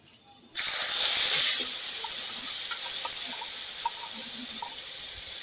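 Nigella seeds and turmeric drop into hot oil and burst into a loud, steady hiss of sizzling that settles slightly, with faint crackles and pops underneath.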